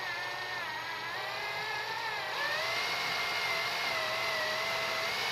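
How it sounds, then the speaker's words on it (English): Metal drill bit boring into a Cybergun FN 5-7 airsoft pistol compensator, a steady whining motor drone that dips briefly in pitch midway and then holds, close and moderately loud with no talking. "I've changed to a metal drill bit. Let's see if this works better."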